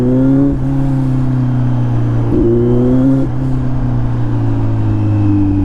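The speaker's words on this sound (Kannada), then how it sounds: "ಕೇಳಿಸ್ತಿರುತ್ತೆ ನೋಡಿ ನಿಮ್ಗೆ ಎಕ್ಸಾಸ್ಟ್ ನೋಡಿ." Steady droning exhaust of a superbike while riding, a continuous loud engine tone that dips and rises slightly with throttle changes, close to the microphone with no talking.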